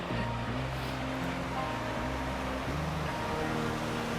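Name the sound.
ocean waves coming in on the shore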